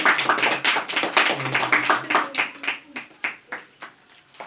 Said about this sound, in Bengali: আমরা সবাই মিলে হাততালি দিই উপহারের জন্য